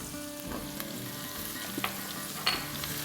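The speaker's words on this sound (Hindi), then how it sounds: "तो इसमें अब हम डाल देंगे 1 टेबलस्पून कोटा हुआ लहसुन।" One tablespoon of crushed garlic fries in hot oil with a steady, quiet sizzle and crackle, punctuated by a few brief stirring clicks and scrapes.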